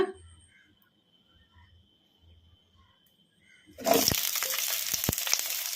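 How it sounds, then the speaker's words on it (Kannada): Chopped onions hit hot oil in a kadai with a sudden loud sizzle that follows a quiet stretch, then keep frying in a steady, close, crackling hiss with a few sharper pops. "ಈಗ ಇದಕ್ಕೆ ನಾವು ಕಟ್ ಮಾಡಿ ಇಟ್ಕೊಂಡಿದ್ವಲ್ಲ ಉಳ್ಳಾಗಡ್ಡಿ, ಇವನ್ನ ಹಾಕೋಣ."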